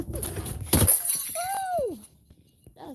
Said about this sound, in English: I just broke my mason jar of onions